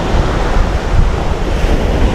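Strong wind roars together with crashing sea waves in a steady, loud, unbroken wash of noise, with no voices over it.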